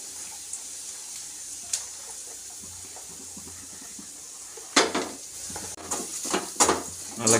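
Chopped onions fry in a pan for a sangu gravy, giving a soft, steady sizzle, with a few sharper scraping and stirring strokes near the end.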